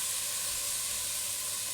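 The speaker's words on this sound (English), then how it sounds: "It's gonna sizzle. I want it to sizzle." Chickpeas frying with spices in a hot pan for a spiced chickpea soup, giving a steady, close, bright hiss of sizzling oil with no pauses and no voices.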